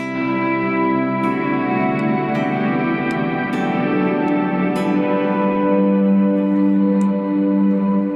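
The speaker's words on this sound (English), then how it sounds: "what I've shown you before, which is a chromatic pitch effect" Sustained, shimmering electric guitar chords with heavy reverb, echo and a chromatic pitch effect, pitch-shifted layers sliding through stepwise tones, loud and continuous with no talking.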